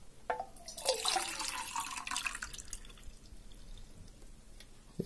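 Water is poured into a small plastic bottle, a bright splashing trickle that tapers off within a few seconds and is followed by faint dripping and handling sounds, quiet and close.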